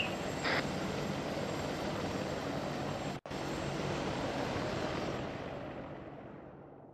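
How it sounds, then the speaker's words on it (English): A helicopter in the ARMA 3 military game roars in a steady, loud rotor-and-engine drone that cuts out for an instant midway, then resumes and slowly fades toward the end. "just prep the helicopter as normal, don't prep it for actual combat"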